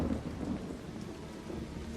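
Rain and thunder from the 1999 film Komodo, a steady downpour with a low rumbling roll of thunder, continuous and moderately loud.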